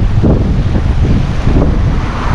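Wind on the Red Sea shore at Jeddah buffets the microphone in a loud, continuous roar with gusty low rumbling surges, close and overwhelming, with no other sound standing out.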